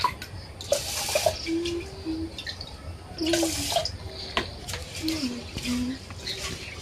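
Vegetables being rinsed with water two or three times in a village kitchen, bursts of splashing and running water coming and going between quieter moments, with birds chirping faintly in the background.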